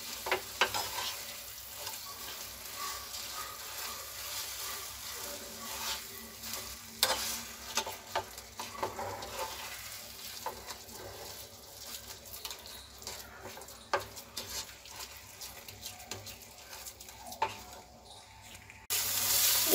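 Bengali sandesh mixture being stirred and roasted in a pan on a gas stove, heard as steady, close scraping and frying noise that runs for about twenty seconds with occasional louder clatters and no voices.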